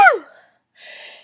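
A single sharp sneeze bursts out close and loud, fading quickly, followed after a short pause by a soft breathy exhale or sniff.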